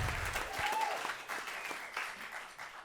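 A comedy club crowd in Santa Monica gives warm, steady applause that fills the short stretch, close and even, with a faint voice in the background.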